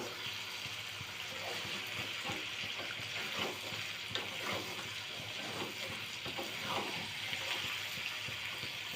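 Pork pieces frying in oil in a tribal-style home cooking pot, a steady broad sizzle with scattered crackles and soft stirring clicks running throughout, close and fairly even in level.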